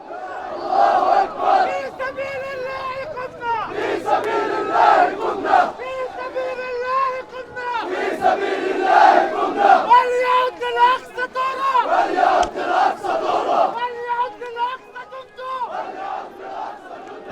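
A crowd in a West Bank refugee camp shouts and chants loudly and continuously while carrying the bodies of fighters and civilians, with voices surging in waves throughout.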